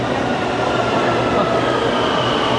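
A train rumbles steadily past at close range, a loud continuous roar of wheels and cars with no break, and faint voices beneath it.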